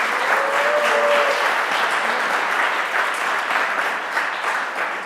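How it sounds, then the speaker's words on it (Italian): A high-school class of students applauds together in a dense, steady wash of clapping that holds for several seconds and fades slightly at the end. "fatevi anche sentire con un bel applauso."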